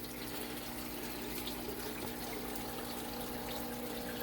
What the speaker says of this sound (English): Well, that did get us a little bit more water flowing.